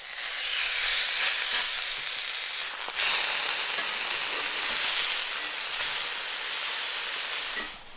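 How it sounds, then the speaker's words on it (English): Chorizo sausage sizzles and fries steadily in a hot pan, a dense, continuous hiss with bursts of crackle, loud and close with no talk over it. "we're gonna fry up some mousse chorizo sausage"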